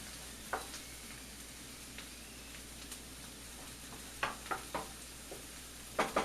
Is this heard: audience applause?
no